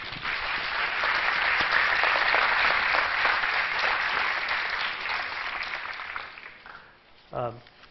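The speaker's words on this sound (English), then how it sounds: "I think we owe them a really big round of applause" At a conference closing ceremony, a large audience breaks into loud, sustained applause that holds for several seconds and gradually thins out, followed by a short spoken phrase near the end.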